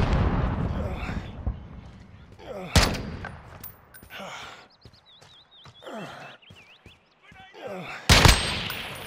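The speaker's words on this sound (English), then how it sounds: "Throwing a grenade." A grenade blast and bursts of gunfire in the shooter Modern Warfare, a loud crack early on followed by scattered shots and a second heavy blast near the end.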